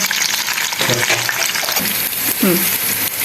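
Chopped garlic cloves and white cumin seeds sizzle in hot oil in a pan, a loud, continuous crackling fry heard close up, with a voice speaking over it.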